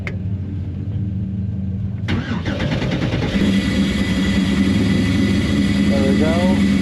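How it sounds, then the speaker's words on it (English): A race car at a King Shocks Nor Cal Final Joker Race fires up after about two seconds of quiet cabin noise, then settles into a loud, close, rough idle that continues to the end. "Engine on."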